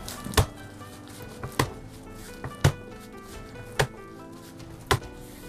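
A knife chops crushed garlic cloves on a board in five or six sharp, evenly spaced thuds, close and distinct against a faint steady background.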